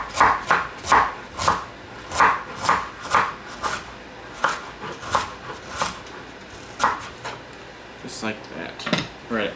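Knife chopping vegetables on a board in a steady run of about twenty crisp, close cuts, evenly spaced and then slightly slower near the end, with a voice speaking between the strokes.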